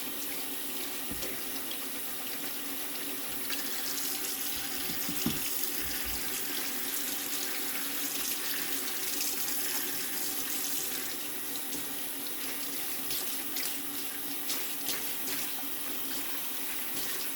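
Tap water runs steadily from a faucet into a sink while dye is rinsed off gloves, a constant close hiss of flowing water with occasional soft splashes and no talking.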